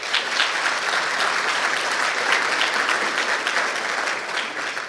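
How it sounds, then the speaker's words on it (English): Sustained, dense applause fills a room at a school breakfast event, a loud, even wash of many hands clapping with no voices over it. "Let's give her a round of applause."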